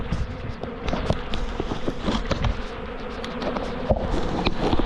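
A swarm of honey bees drones steadily near a nucleus hive as the bees take over a weak colony and pour into the box, a dense close buzzing with individual bees flitting past the microphone.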